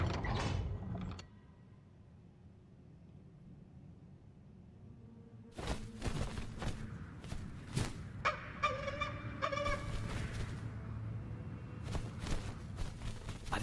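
Bird calls in the video game The Lord of the Rings: Gollum, a few scattered creaks and squawks over a low ambient drone after a quiet stretch, with some mechanical clanks mixed in.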